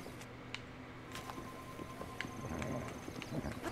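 Epona, a horse in the video game The Legend of Zelda: Breath of the Wild, clops along with soft, steady hoofbeats under ambient game music, with no clear whinny.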